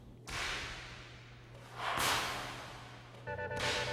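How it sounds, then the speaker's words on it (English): Three sharp whip cracks, each a sudden broadband snap, strike at spaced intervals against a quiet hum, with a brief swish before the last. "But what exactly accounts for the sound of a whip cracking?"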